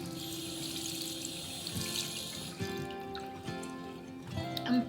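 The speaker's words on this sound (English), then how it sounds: "Going to wet my sponge." Tap water runs steadily into a sink to wet a makeup sponge, a continuous close splashing stream with small shifts as the sponge passes under it.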